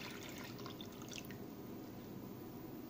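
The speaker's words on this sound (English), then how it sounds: "To the condensed milk I'm gonna mix water." Water being poured into condensed milk while making sheer khurma, a faint soft trickle with a few light drips, quiet and alone.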